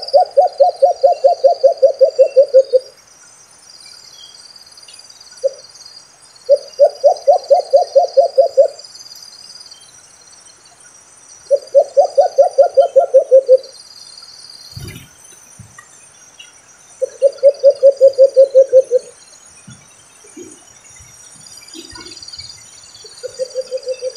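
A white-eared brown dove calls repeatedly in rapid rhythmic bursts of low pulsing coos, each run lasting a few seconds with pauses between, fairly close against a quiet background.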